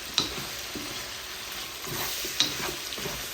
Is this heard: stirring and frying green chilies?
yes